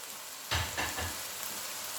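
Whole spices such as cloves, green cardamom and cinnamon drop into hot oil in a pan for a chicken and potato curry, giving a sudden burst of sizzling that settles into a steady soft crackle.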